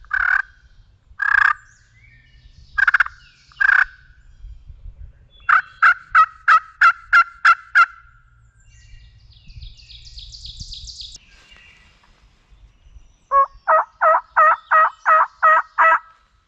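A wild turkey gobbles repeatedly from a distance, rattling bursts that come in a series, some longer rolling gobbles, standing out clearly over quiet woodland with faint footsteps and rustling between calls.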